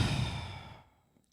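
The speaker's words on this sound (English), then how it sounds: "You're yawning?" A person lets out a single long yawn, close and fairly loud, swelling at the start and trailing off into a breathy sigh before near silence.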